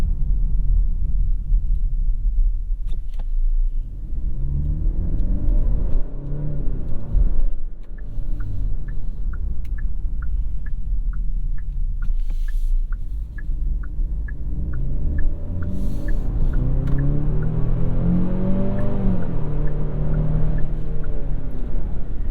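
A 2022 Genesis GV70's 2.5-liter turbocharged four-cylinder engine hums and rumbles steadily from inside the cabin while driving, with road noise, a soft rhythmic ticking, and occasional rises in engine pitch.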